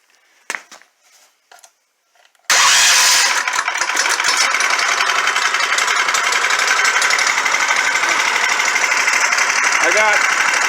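A Predator 301 engine on a Trailmaster MB200 mini bike catches after a few quiet clicks and then idles loudly and close with a steady, rapid chugging. Someone speaks briefly.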